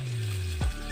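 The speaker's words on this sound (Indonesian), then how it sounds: "kita goreng dadar jagungnya di teflon yang sebelah kanan ya" Corn fritters fry in a nonstick pan, with a steady close sizzle of hot oil and a brief scraping stir near the end.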